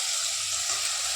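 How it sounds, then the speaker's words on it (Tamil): Chopped large tomatoes sautéing in a pan, a steady bright sizzle of frying that holds evenly throughout. "தக்காளி நல்லா வதங்கட்டும்."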